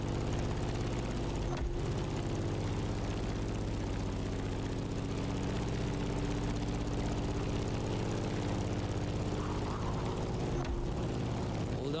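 A propeller airplane flying in the racing game The Crew Motorfest, a steady, loud droning engine hum that holds throughout with a few brief dips.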